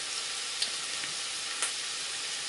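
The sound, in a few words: sausage browning in olive oil in a pan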